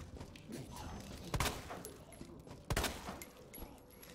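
Gunfire in the survival horror game Resident Evil 2: two loud, sharp shots stand out over a steady bed of game ambience, with smaller pops scattered between them.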